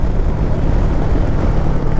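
Royal Enfield Meteor 350 motorcycle cruising in fifth gear at about 65, a loud continuous engine drone mixed with heavy wind rush, steady throughout with no talking.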